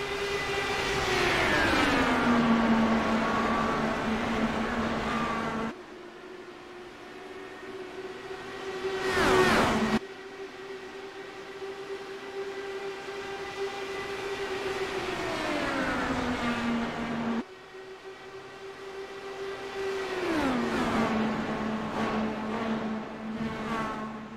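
Race cars roar past one after another on an oval track, their engine notes sweeping down in pitch as each passes, loud and close with continuous engine drone between passes.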